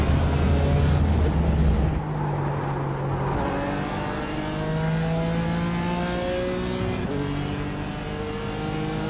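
A BMW 12.0 Challenge race car in the iRacing sim racing game, at Red Bull Ring or Suzuka, howls loudly as it brakes and downshifts, then revs up through the gears in rising sweeps. No speech is heard.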